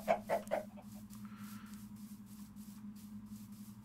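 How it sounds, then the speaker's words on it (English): Three quick clucks from a Minecraft chicken at the start, then a low steady hum with faint ambient noise beneath. "We got chickens here."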